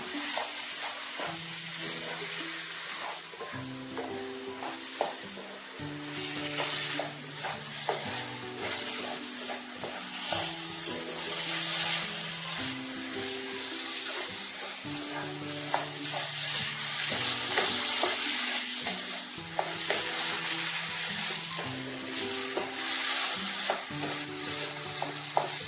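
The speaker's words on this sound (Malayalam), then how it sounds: "നന്നായിട്ടൊന്ന് ഇളക്കി കൊടുത്തത് യോജിപ്പിച്ചെടുക്കാം." Roasted semolina is stirred into boiling coconut milk in a pan for kozhukkatta dough, giving a continuous bubbling, scraping sizzle with small clicks, set under steady background music.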